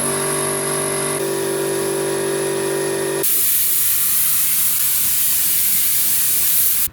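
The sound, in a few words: paint spray gun spraying paint on motorcycle fuel tank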